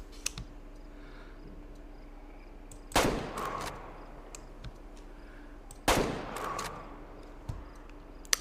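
Two loud, sharp hunting rifle shots from Way of the Hunter, about three seconds apart, each trailing a brief rolling echo, with light clicking and small taps scattered between them.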